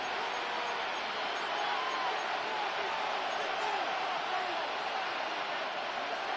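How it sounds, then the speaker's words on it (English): Stadium crowd noise in an American football video game, a dense steady roar swelling slightly mid-way, alone without commentary. "Crowd noise rises."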